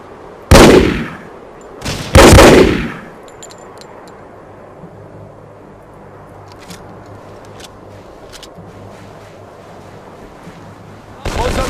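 Gunfire in the Hidden and Dangerous 2 video game rings out as two loud, sharp shots a couple of seconds apart, then a quieter stretch with faint distant noise before another shot near the end.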